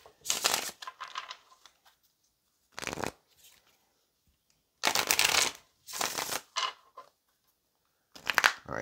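Several bursts of tarot cards being shuffled, crisp riffling and flicking separated by short quiet pauses, close up.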